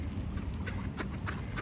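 Duck quacks from female brown and male green ducks outdoors in cold Norwegian weather, several short nasal calls at intervals over a steady low background rumble.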